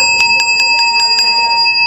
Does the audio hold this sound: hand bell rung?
yes